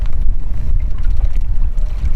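Strong gusty wind buffets the microphone outdoors while fishing from a boat on open water, a loud continuous low rumble with fluctuating bursts and no talk.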